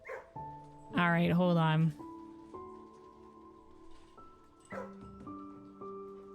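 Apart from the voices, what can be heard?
dogs barking in Blue Prince video game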